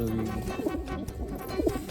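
Soft, low coos of wild pigeons roll on repeatedly at close range, a muffled throaty murmur with no talking.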